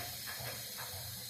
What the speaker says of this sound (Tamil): கடுகு உளுத்தம்பருப்பு போட்டு தாளிக்கிறோம்.